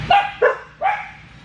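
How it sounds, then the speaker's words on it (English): Three sharp, close dog barks in quick succession, loud and clear, indoors or in a yard with no talking over them. "dogs, quiet!"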